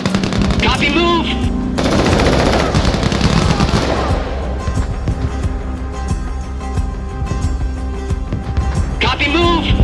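Heavy automatic gunfire in the video game Crossfire: Legion, loud rapid bursts of machine-gun fire with sustained rattling volleys throughout, game voices and battlefield noise mixed in.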